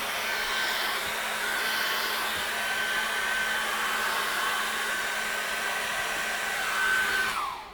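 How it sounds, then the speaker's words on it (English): A hair dryer blows steadily at close range over acrylic paint, a constant loud whirring hum that holds throughout before cutting off at the very end. "I'm going to run the hairdryer over that again, just to dry that off."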